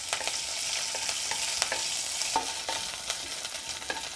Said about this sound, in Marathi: तेल गरम झाले, त्यामध्ये जिरे घालूयात।